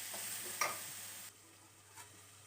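Bottle gourd curry with tomatoes cooks in a pan, giving a faint, soft sizzle. A few light stirring clicks from a spoon come through, and no one speaks.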